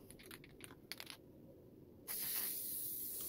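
Aerosol can of tack adhesive spraying onto a heater box seal for a 1968 Charger, a steady close hiss starting partway through after a few light clicks and taps.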